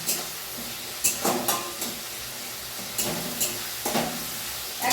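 Small meat pieces sizzle in a pan with onion, tomato, cumin and spices, a steady frying hiss broken by a few louder scraping stirs, close and without voices.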